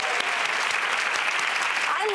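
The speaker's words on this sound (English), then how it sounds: "I think you should clap for this." A studio audience on a cooking show applauds, a dense sustained clatter of many hands clapping that fills the room evenly from start to finish.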